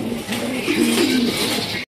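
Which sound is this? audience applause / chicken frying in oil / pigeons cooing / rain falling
pigeons cooing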